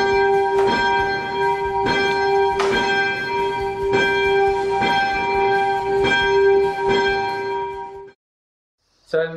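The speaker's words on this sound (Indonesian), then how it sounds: "Bunyi bel, gong, atau lonceng dalam liturgi bertujuan untuk menandai suatu peristiwa penting" A church bell rings in steady, repeated strikes during a Catholic liturgy, each loud toll leaving a sustained metallic hum that carries into the next, before it stops abruptly.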